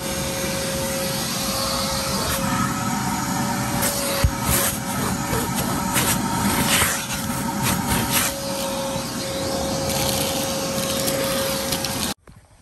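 A vacuum cleaner drones loudly and steadily with occasional bumps and rattles, then cuts off abruptly.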